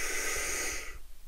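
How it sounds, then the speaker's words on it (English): A person draws one long, deep, slow breath in during a full-lung meditation breathing exercise, a close airy hiss lasting about a second before fading, with no talk. "Pull in as much air as you can."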